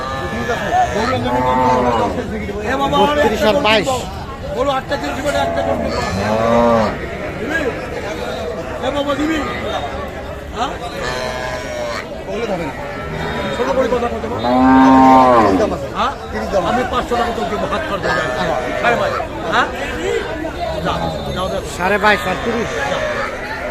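Cows and calves moo repeatedly, some near and some farther off, across a busy cattle market in Kaharol, with bargaining voices and chatter running underneath throughout.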